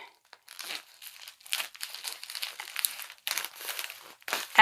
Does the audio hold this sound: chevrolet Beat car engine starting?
no